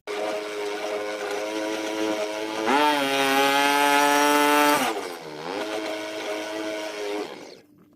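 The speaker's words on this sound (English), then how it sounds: "So I'm going to cut this with my power saw." A power saw cutting a wooden fence stay, its motor whining steadily, rising to a louder, higher-pitched strain as the blade bites for about two seconds, then easing back and winding down at the end.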